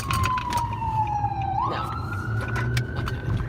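An ambulance siren passing on the street, its wail sliding down in pitch and then sweeping back up, loud and continuous over a low rumble of traffic.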